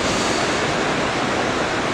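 Small, clean surf waves on the beach at Anglet, with smooth water and a light east-southeast breeze. Close and continuous, they give a steady, even wash of breaking water throughout.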